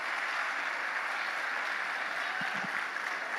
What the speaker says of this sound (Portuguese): Uma salva de palmas para essa história é demais